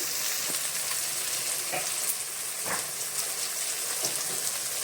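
A tomato masala with turmeric fries in a pan for a Bengali fish-head muri ghonto, giving a steady, dense hiss and crackle like light rain, with a few faint scrapes of stirring and no talking.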